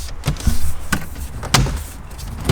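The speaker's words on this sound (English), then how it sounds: "I have to open the passenger door." The passenger door of a 2014–2018 Toyota Corolla gives several sharp, close clicks and thumps spaced across a few seconds, with no talking.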